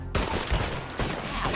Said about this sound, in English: I sure love these pistols, but they don't have a whole lot of stopping power